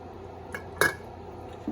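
A spoon stirs chicken and red lentil stew with water and heavy cream in a pot. A few soft clinks and scrapes stand out over a quiet kitchen background, without talk.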